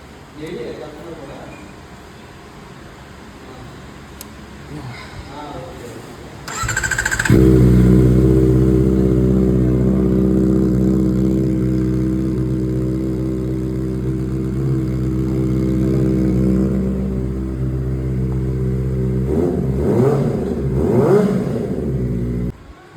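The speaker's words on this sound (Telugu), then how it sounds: "ఒకసారి ZX 4R అయితే ఒకసారి 4RR ఆన్ చేసి చూద్దాం" A Kawasaki ZX-4RR motorcycle engine cranks to life after a few seconds of quiet, then runs loud and close with a steady, throaty idle and gently rising and falling revs. Voices are briefly heard near the end.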